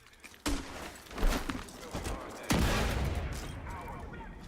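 Gunshots from the player's weapon in The Division 2, a few sharp loud bursts fired blindly with echoing tails, while a voice speaks over them.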